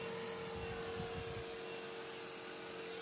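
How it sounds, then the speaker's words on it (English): Renault K9K 764 diesel engine running steadily, a continuous mechanical drone with a steady whine over it, held at a constant level for the whole stretch with no talk. "And engine turning good."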